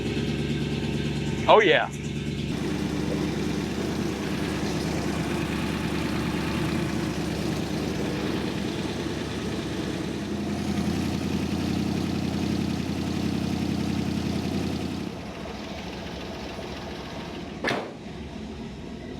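A vehicle engine catches with a short cranking burst, then settles into a steady, low idle that drops to a quieter hum later; someone speaks briefly over it.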